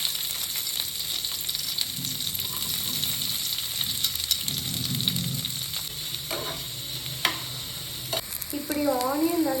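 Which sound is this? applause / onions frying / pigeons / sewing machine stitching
onions frying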